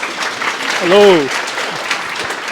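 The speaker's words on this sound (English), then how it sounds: "Could we give him a round of applause and invite him?" A meetup audience in Singapore claps in a steady, dense burst of applause while a voice briefly speaks over it.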